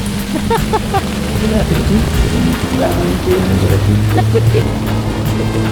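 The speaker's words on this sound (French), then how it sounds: "La pluie, c'est vraiment intense." Intense heavy rain pelts riders on jet skis (personal watercraft) near Chetumal, Mexico, a dense constant hiss mixed with engine and water spray, with people talking and exclaiming over it.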